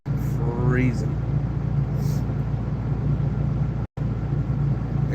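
A parked car's engine idles at about 1,000 RPM on a freezing day with the heater running, a low steady rumble that holds throughout while someone talks over it.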